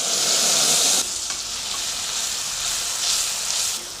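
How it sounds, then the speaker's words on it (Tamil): Ground jackfruit paste fries in ghee over a low flame for a sweet kesari, producing a close sizzling hiss that is loudest at first, eases, then swells again briefly. "இதை நல்லா அரைச்ச பலாப்பழத்தை இந்த மாதிரி நெய்யில் நல்லா வதக்கிடுவோம்"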